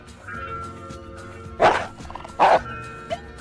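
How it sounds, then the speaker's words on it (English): A dog in the video game Enchanted Arms lets out two loud, sharp barks close together, over a steady background game music drone with a small yip afterward. "This dumb dog seems to have taken a real disliking to me for some reason."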